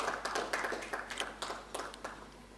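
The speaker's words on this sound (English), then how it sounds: "Welcome him with a big round of applause." At an education summit, a faint, thin round of clapping welcomes a vice chancellor, with a sparse and somewhat distant irregular patter.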